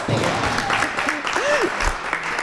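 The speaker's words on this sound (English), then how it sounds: "Applause." An audience at a fall housing symposium gives a short burst of applause for sponsors: brisk, overlapping claps close by, with a brief tonal whistle-like sweep rising and falling over the clapping.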